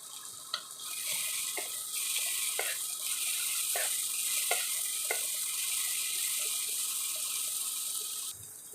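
Onions sizzle steadily in a pan for a Bengali fish curry made with pond fish and bamboo shoots, a continuous close hiss with occasional light clicks of stirring, no talking.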